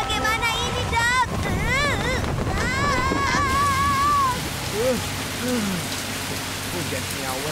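Steady rain pouring down outdoors, a constant hiss of drops on surfaces with some wind, while animated characters talk and exclaim over it for the first few seconds.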